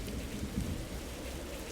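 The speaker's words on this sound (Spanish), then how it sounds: "La lluvia de diamantes." Steady rain with rumbling thunder during the diamond rain event in the video game 99 Nights in the Forest, a dense continuous downpour with low rolls throughout and no talk.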